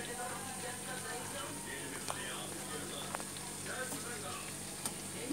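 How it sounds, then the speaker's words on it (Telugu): Bread pakoda frying in hot oil until golden, a steady close sizzle with faint occasional pops running evenly throughout, with no voices. "ఫ్రెండ్స్, ఇలా గోల్డెన్ కలర్ వచ్చే వరకు వీటిని వేయించుకోవాలండి."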